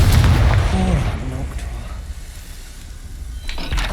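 A Confringo spell blast in the Hogwarts Legacy video game booms out as a loud, deep explosive burst under a character's voice, then its rumble fades away.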